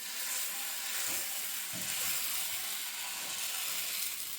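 Dosa batter sizzling on a hot pan, a steady loud broadband hiss that continues without a break, close by, with a few faint soft thuds underneath and no talking.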